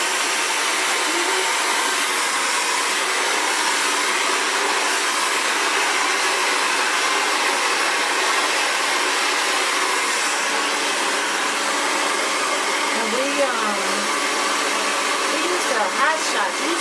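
An Xtava Allure professional ionic ceramic hair dryer runs steadily and loudly for the whole stretch, a constant close whooshing blow that barely changes.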